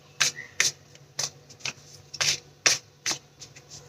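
Tarot cards being shuffled by hand in a series of crisp, riffling bursts, about eight quick shuffles spaced irregularly, close and fairly quiet with no talking.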